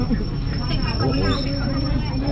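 Train rolling slowly through the Samut Songkhram Railway Market in Thailand, a low rumble with faint wheel squeal under people talking nearby.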